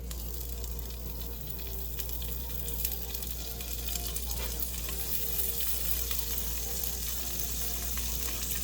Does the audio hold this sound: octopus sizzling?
yes